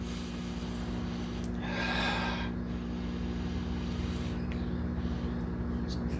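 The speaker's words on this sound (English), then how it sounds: "So we're going for a bit of a sniff." A single sharp sniff rises out of a steady low hum, followed by quieter breathy sounds.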